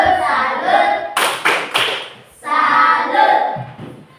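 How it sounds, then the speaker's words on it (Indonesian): A group clapping hands in a rhythmic salute, a few sharp bursts of claps between stretches of shouted chanting voices, close and loud. "Tepuk salut untuk kelompoknya Piani"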